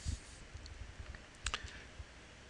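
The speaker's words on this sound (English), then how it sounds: "So I typed an A on the keyboard" A few soft keystrokes on a computer keyboard, typing Devanagari text, with a couple of light clicks near the start and a small cluster of taps in the middle, quiet and close with no talking.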